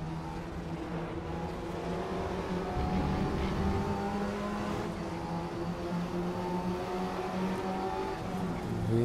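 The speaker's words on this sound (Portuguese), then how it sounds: "Gosto bastante do Audi TT do Race Room." Audi TT race car in RaceRoom Racing, its engine droning steadily with a sustained tonal hum that shifts slightly in pitch as it holds speed on track, loud and continuous with no voices.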